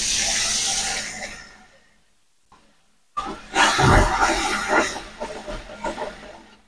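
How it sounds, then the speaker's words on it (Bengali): Water splashing into spice paste frying in a pan for broiler chicken curry, a loud sizzling hiss that fades to near silence, then a strong new burst of hissing and bubbling as more water goes in. "এখন সামান্য পরিমাণ পানি দিয়ে দেব।"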